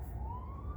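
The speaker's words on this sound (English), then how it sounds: "Y'all gonna have to just rock with these sirens because they going." An emergency vehicle siren wails on a street in Brownsville, a single rising tone sweeping upward over low city rumble, heard briefly and fairly loud.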